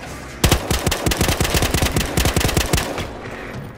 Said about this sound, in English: machine gun mounted on an SUV!